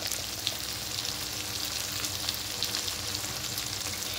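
Spiced kochur loti, taro stolons, sautéing in a pan: a steady soft sizzle with faint crackles and occasional light stirring scrapes, no speech.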